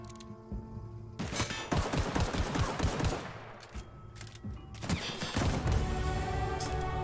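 A shotgun firing in the video game The Outer Worlds, with repeated loud blasts in clusters over several seconds, close and dense, with no talk.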